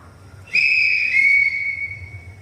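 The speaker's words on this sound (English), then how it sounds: "I could never answer to a whistle" A single loud, sustained whistle blast rings out to summon children at a staged live event, starting sharply and holding with a slight pitch drop before fading.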